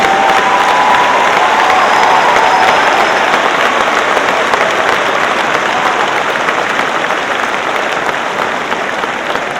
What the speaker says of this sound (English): please stand for a second so we can give you a round of applause for everything seen and unseen that you do for our students